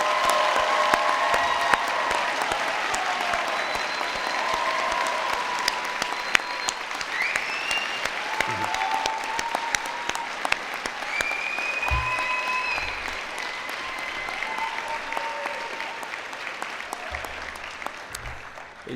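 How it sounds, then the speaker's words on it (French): Sustained, even applause from a large audience honouring new bachelor's graduates of a political science and law faculty at a graduation ceremony, steady throughout with a few faint voices and cheers inside the clapping. "Applaudissons chaleureusement les nouvelles diplômées et les nouveaux diplômés des baccalauréats"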